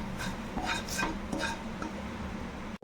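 Spices with coriander powder being stirred in a pan, with soft scraping strokes and a faint sizzle underneath, fairly quiet throughout.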